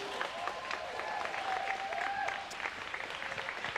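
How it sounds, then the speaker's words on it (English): Crowd applause for the referees and non-skating officials being introduced before a roller derby game, a dense, sustained wash of clapping with a faint tonal whine running through part of it. "Give them all a round of applause, please."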